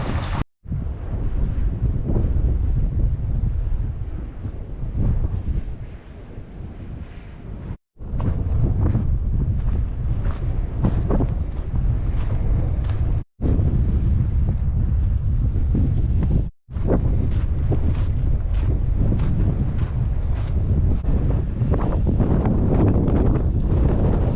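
Strong, steady wind buffets the microphone at an open, breezy trail campsite on the Pacific Crest Trail. The roar is loud and nearly continuous, broken only by a few brief dips, and no one speaks.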